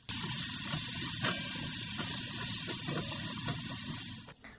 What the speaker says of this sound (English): I'm just gonna let these sear until they're caramelized